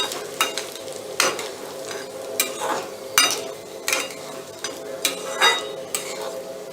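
Moong dal dry-roasts on low heat in a pan for laddoos, with regular scraping strokes of a spatula about once a second over a faint background hiss.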